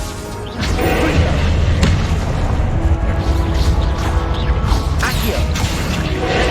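Confringo, an explosive fire spell cast in the video game Hogwarts Legacy: a sudden loud burst of rumbling, crackling combat effects with whooshing bursts and mechanical clatter that carries on without a break.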